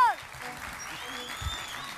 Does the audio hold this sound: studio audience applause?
yes